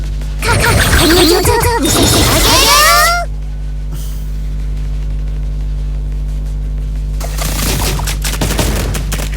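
Rapid bursts of game gunfire from Blue Archive, a loud dense volley over the first three seconds and another spray near the end, with speech mixed in over a steady low hum.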